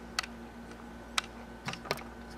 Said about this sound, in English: Now you can type.